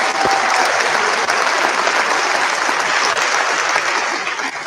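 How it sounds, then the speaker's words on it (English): Audience at a high school senior awards night applauds a group of honored students, loud continuous clapping that holds steady throughout before easing slightly at the end. "Big round of applause for these fine folks"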